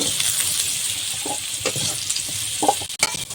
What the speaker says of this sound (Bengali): লবণ দিয়ে একটু ভেজে নেবো হালকা করে আলুগুলো ভাজা হয়ে গেছে